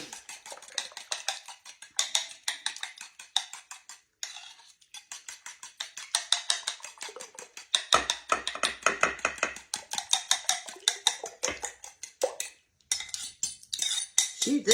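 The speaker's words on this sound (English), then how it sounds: "I'm just mixing this together so to make it a lot easier." Utensil scraping and clinking against a bowl while cake batter is mixed by hand, a steady rhythmic run of close, bright strokes with a few brief pauses.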